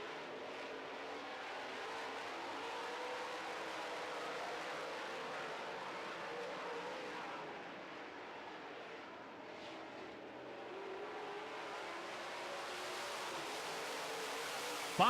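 Late model race cars run a feature race on a track, their engines a faint, distant, continuous roar that dips briefly midway and then swells back.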